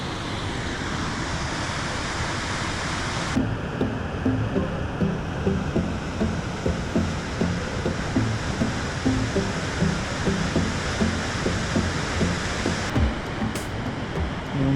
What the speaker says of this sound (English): Getting closer to the falls.